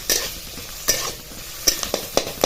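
Onion being sautéed in a pan for a Maharashtrian amti, with soft sizzling and several sharp spatula scrapes and stirs at irregular intervals, close by and without speech.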